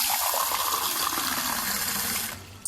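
A soda water machine fills with water and carbonates it, giving a loud, steady gushing rush of liquid that holds evenly and then tapers off at the end, with no voices.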